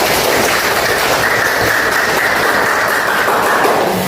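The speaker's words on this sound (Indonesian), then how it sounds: "Tepuk tangan buat kalian." A class of pupils claps together, a loud, dense and continuous patter of many hands with no talk over it.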